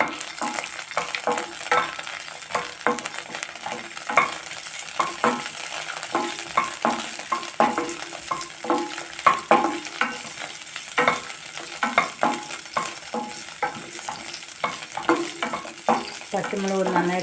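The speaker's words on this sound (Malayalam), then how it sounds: "പച്ചമുളക് നന്നായിട്ടൊന്ന് മൂക്കട്ടെ" Four or five green chilies and dried red chilies fry in oil in a pan for coriander chutney, giving a continuous crackling sizzle with frequent stirring scrapes and clinks.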